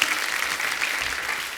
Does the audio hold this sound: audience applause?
yes